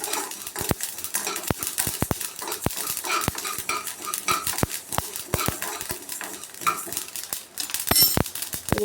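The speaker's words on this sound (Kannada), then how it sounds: "ಮೆಂತ್ಯ ಮತ್ತು ಸಾಸಿವೆ ಎರಡು ಗರ್ಗರಿ ಆಗೋವರೆಗೂ ಫ್ರೈ ಮಾಡ್ಕೊಬೇಕು." Fenugreek and mustard seeds fry in a pan over a medium flame. The seeds give sharp, irregular pops and ticks close by, with light metallic clinks of a spoon against the pan and no talk.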